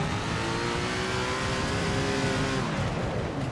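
Race cars in SRX: The Game, a crowded field roaring around the track, with steady loud engine drone throughout and pitch shifts as cars rev and pass near the end.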